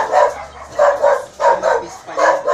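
A dog barks in about four close, loud bursts at a fairly regular rhythm, some doubled, with faint background noise between them.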